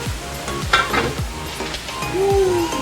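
Sinigang na isda broth, a tomato-based fish soup with sweet potato leaves, coming to a boil in a pot, heard as a steady bubbling hiss with several stirring scrapes, one brief ringing metal tone and a clatter of cookware.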